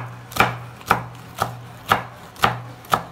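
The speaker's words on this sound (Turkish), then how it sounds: "Yeşil biberlerimi de doğradım." Green peppers being chopped with a knife on a cutting board, six crisp, evenly spaced knocks of the blade, close and clear with no talk.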